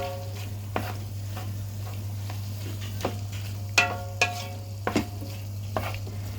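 Alexandrian liver with spices is stirred in a frying pan, with a steady low sizzle and a handful of sharp utensil scrapes and clinks against the pan at irregular intervals, close and clear.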